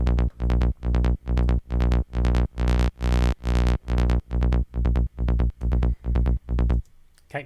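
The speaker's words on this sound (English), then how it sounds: "we've got 16th notes played all the way through as an arpeggio." Psytrance synth bass built from a Serum preset, an arpeggio of steady 16th notes pulsing evenly and loud with bright, buzzy attacks, ending abruptly with a short tail.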